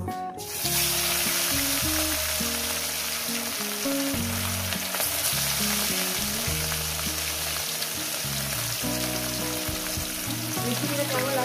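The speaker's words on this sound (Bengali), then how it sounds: "তেলটা আমার গরম হয়ে গেছে, দিয়ে দেবো একটু লবণ, দিয়ে দেবো এক এক করে মাছ" Pieces of native catla fish, lightly salted, are laid into hot oil and fry in a loud, steady sizzle that rises sharply at the start and holds close up for the whole stretch, with no voices.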